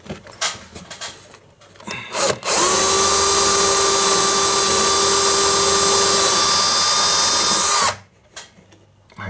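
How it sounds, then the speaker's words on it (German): After some soft handling noises, a power drill runs steadily for about five seconds at a constant high whine, close and loud, then stops. "jetzt müssen wir gucken, dass wir hier irgendwo ein Loch bohren"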